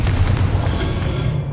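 A Confringo blasting spell explodes in the Hogwarts Legacy video game with a heavy rumbling boom that sustains and slowly fades, loud and close, with no voices.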